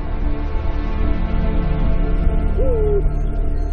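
A Eurasian eagle-owl hoots at night, with deep low calls and a brief wavering call near the end, heard against a steady background of running water.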